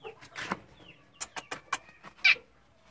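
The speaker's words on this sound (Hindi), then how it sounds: "ये देखो मुर्गी अंदर है ना" A broody hen sitting in a coop gives a few short clucks and sharp bursts at close range, with quiet rustling in between and no talking.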